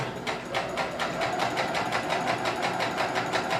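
A domestic sewing machine running a forward seam and then a back stitch, a close, even, rapid chatter of needle strokes at a steady pace, with no talking.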